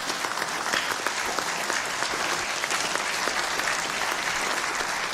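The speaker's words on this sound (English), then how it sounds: "Let's give him a good standing ovation and applause." Audience applause and a standing ovation for the chief guest at a plenary assembly, with dense sustained clapping from a large crowd, loud and even throughout.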